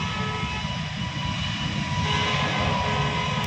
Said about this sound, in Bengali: দেখ উড়ছে এবারে, সামনের চাকা উঁচু হচ্ছে আস্তে আস্তে, ওই উপরে উঠে গেছে।